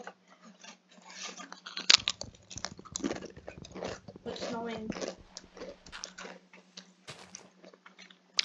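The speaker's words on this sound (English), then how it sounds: "Sorry everyone for the annoying crunching." Someone eating with loud crunching close to the microphone, irregular bursts of chewing and biting noises scattered across several seconds with quiet gaps between them.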